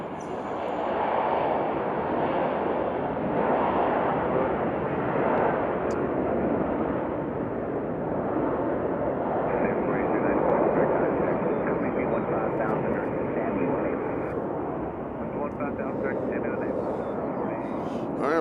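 An airliner arriving at Nashville International Airport roars steadily and broadly throughout at a moderate distance, while people talk faintly underneath.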